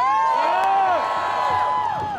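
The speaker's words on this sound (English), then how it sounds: "Let's hear a cheer for Washington." An outdoor crowd at a cannabis rally in Ann Arbor, Michigan lets out a sustained cheer, dense whoops and shouts of many voices rising and falling loudly throughout.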